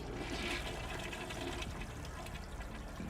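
A toilet flushes in a single continuous gush of rushing, swirling water, quiet overall and steady through its short length.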